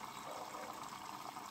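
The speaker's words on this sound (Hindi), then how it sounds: "तो मशीन ने पानी लेना शुरू कर दिया है" An IFB washing machine fills with water in a steady, continuous rushing stream, heard up close with no pauses.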